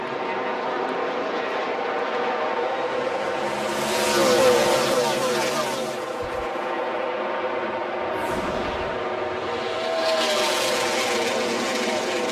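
NASCAR race cars accelerating at a green flag restart at Kansas, a loud continuous engine roar that swells and fades as the pack passes, with broadcast commentary faintly underneath.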